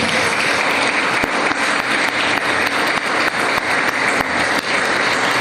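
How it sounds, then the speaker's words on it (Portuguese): A church congregation clapping loudly and vigorously during a sermon service, a thick, continuous burst of applause from many people filling the room. "Dê um aplauso mais forte."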